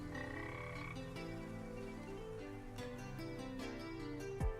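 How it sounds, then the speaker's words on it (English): Frogs croak steadily beside a built pond on a farm in Farming Simulator 25, a layered chorus of repeated croaks, near and even in level, with no talk. "you can hear the frogs and everything"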